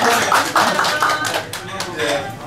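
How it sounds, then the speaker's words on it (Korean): Applause from a crowd of residents at a Rotary district gathering during a visit to a pottery studio, a steady dense patter of clapping that runs throughout with voices mixed in. "시청 주민들께 박수 한번 보내겠습니다"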